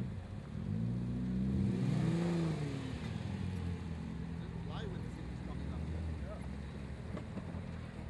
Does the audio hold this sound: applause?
no